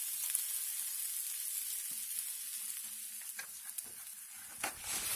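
Steady, soft sizzling of bread toasting in a hot pan for a po'boy sandwich, with a few faint crackles and light clinks near the end.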